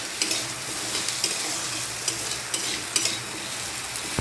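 Potatoes and onion frying together in a pan for a bhindi and potato curry, a steady crackling sizzle with faint scraping stirs now and then, close and fairly soft, no talking.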